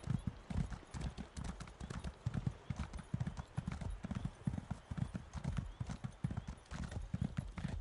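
Hooves of a mount galloping in Elder Scrolls Online, a steady rhythmic clip-clop close and loud from start to finish, with speech faint underneath.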